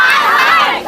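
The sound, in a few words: angry crowd creating uproar at a road blockade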